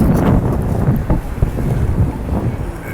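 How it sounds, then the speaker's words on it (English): Wind buffets a microphone outdoors in Times Square, New York, giving a steady, loud low rumble with gusty swells throughout and no voices. "It's so windy."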